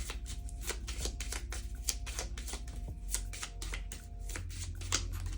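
A tarot card deck being shuffled by hand, a dense rapid riffle of crisp card flutters and taps close up, continuous throughout with no talking.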